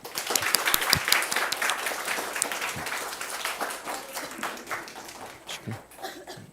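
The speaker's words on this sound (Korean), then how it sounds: "우리 안수영 사모님 박수로 좀 모시겠습니다" Applause for a guest introduced at a church youth Sunday service, dense clapping from a hall audience holding steady throughout with a few louder claps, a little chuckling and brief voices underneath.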